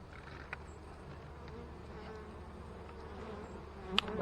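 Honeybees buzzing steadily around an opened hive during a queen check, a continuous soft drone with a faint sharp tap near the end and no talk.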